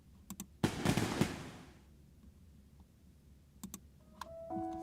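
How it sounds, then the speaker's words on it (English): A fireworks display in Goddess of Victory: Nikke: one loud crackling burst early on, then sparse faint pops and a few small clicks near the end. "The firework display is almost over."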